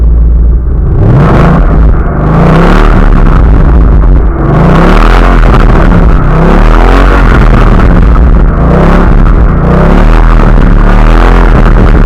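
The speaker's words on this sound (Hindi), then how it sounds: "तो ये है भाई इसका एक्चुअल एग्जॉस्ट नोट, मतलब वो जो ग्राउलिंग साउंड होती है ना" Ford Mustang 5-litre V8 exhaust revved repeatedly close to the pipes, a loud growling rumble that rises and falls in rhythmic surges over a steady deep idle.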